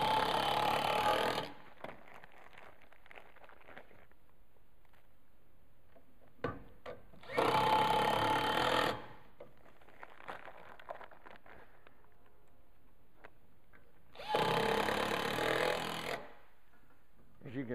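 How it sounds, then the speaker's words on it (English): A power driver sinks screw fasteners into a solid wall to mount a steel guardrail base, with three loud whirring bursts of a couple of seconds each separated by quieter handling sounds. "We can get away with just putting 4 fasteners into this one."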